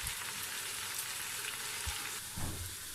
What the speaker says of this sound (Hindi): अब मैंने प्याज और लहसुन डाल दिया है। अब हम उसको भूनेंगे